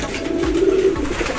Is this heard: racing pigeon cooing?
yes